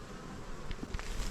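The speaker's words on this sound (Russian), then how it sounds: "уже на пасіки гул стоїть, пчела работает." A steady, dense hum of honeybees buzzing at an apiary in early morning, many insects at once, fairly loud and continuous with a few closer passes.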